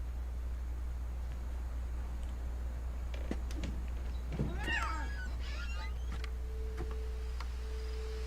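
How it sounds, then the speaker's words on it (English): A cat meows once in the video game What Remains of Edith Finch, a short, faint mewing call in the middle of a quiet scene over a steady low hum, with a few soft clicks around it. "I heard a kitty meow"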